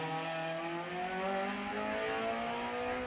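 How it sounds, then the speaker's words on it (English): A 2-litre Mark 1 Ford Escort race car accelerates at the Leyburn Sprints, its engine note climbing and then easing as it pulls away. The sound is loud and sustained, with no voices. "Dennis Brown underway in the 2-litre version of a Mark 1 Ford Escort"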